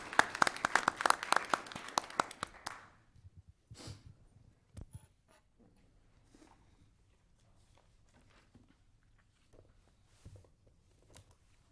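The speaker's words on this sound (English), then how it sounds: "so we need to give them a round of applause." Applause from a county board of commissioners meeting audience in Putnam County, Florida: a few seconds of dense clapping that quickly fades, followed by scattered footsteps, rustling and faint sounds in a quiet room.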